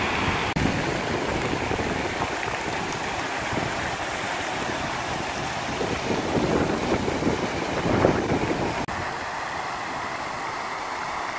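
Water splashing and pouring steadily from the Stone Flower fountain at VDNKh in Moscow, a continuous outdoor rush with some wind across the microphone, no speech.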